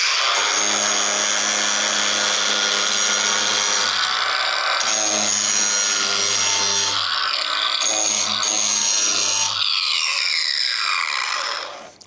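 Ryobi grinder with a wheel biting into the corner of an LVL wood beam, a loud continuous whine and grinding roar that shifts pitch as pressure changes, then winds down at the end.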